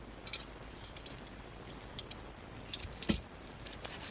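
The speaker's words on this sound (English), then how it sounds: "I'm just going to cut the ends here." Scissors snip the ends of paper for an altered file folder craft, giving a few faint, sharp metallic clicks and cuts scattered across a quiet background.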